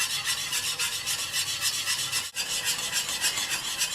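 Farina being stirred steadily into milk near boiling in a pot for Lebanese kanafeh na'ama, a continuous scraping, rasping swirl with a brief pause partway through.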